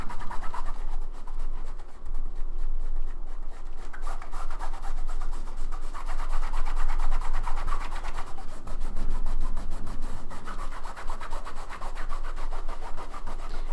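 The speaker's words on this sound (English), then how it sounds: "now I'm going to come in and do the same thing and just start scrubbing" Steady, brisk scrubbing rasps across the fabric interior lining of a Louis Vuitton handbag being cleaned with Totally Awesome cleaner, continuing close and evenly for the whole stretch with no talk.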